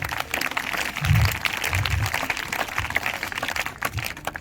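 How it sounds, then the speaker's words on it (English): Students at a Dussehra school assembly applauding, a soft, diffuse patter of clapping that carries on evenly for several seconds, heard from a distance. "big round of applause for all the students"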